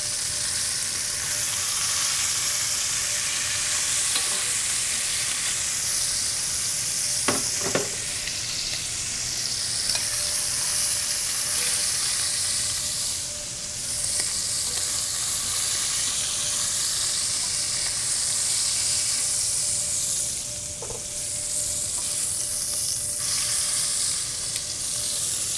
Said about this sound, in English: Creating a depth of flavor by browning off your meats.